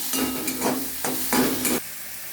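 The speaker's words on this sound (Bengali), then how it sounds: "এবার এটাকে ভালো করে নাড়াচাড়া করবো যতক্ষণ না একটু লাল লাল হয়" Posto kalia mixture frying in a pan while being stirred, with four scraping strokes over a steady sizzle, close and clear, then a quieter crackle as the stirring stops.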